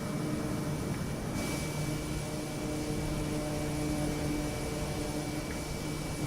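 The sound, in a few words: aircraft taking off at Grand Teton airport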